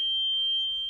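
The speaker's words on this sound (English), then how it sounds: "Our oil alarm is working," A boat engine's oil alarm sounds a steady, piercing, high-pitched tone that holds unbroken from start to finish over a faint low hum.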